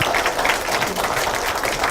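Clapping from an audience at a panel discussion on disability legislation, a dense steady patter of hands lasting throughout, moderately loud with no voices.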